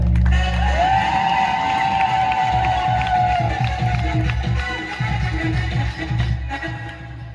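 An audience at the last day of a pilgrimage applauding with loud ululation, a sustained wavering high cry riding over dense clapping and crowd cheering, close and continuous.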